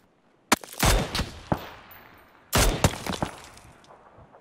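Two sharp, loud gunshots from the PUBG video game, about two seconds apart, each followed by echoing clatter and impact noise against a quiet background.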